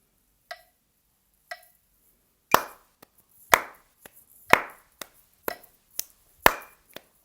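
A metronome clicks sharply and evenly, joined after two beats by close, crisp hand claps landing on each beat, bright isolated hits with short decays in a quiet room.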